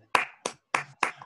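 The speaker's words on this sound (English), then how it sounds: "So clap for Scott." A few hands clap four separate times at the close of a knot theory lecture, each clap sharp and close with short gaps of silence between.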